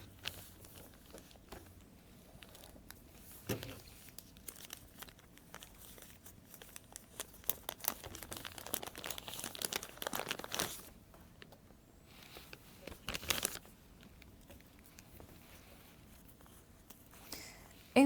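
Oil paper wrapping crinkles and rustles around a plastic bottle, scattered crackles and crumpling bursts growing busier midway, with brief quiet talk.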